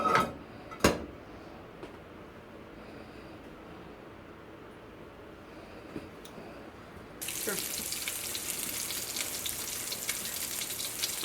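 Hamburger patties for homemade Salisbury steak fry in a greased pan; after a quiet stretch with a couple of sharp knocks, a steady, bright sizzling hiss rises and continues evenly to the end.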